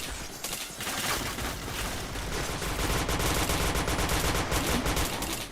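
Constant rapid gunfire fills a shooting video game, a dense loud stream of shots with barely any gap, like sustained automatic fire.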